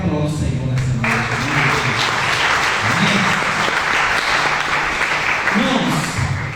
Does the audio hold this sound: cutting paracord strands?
no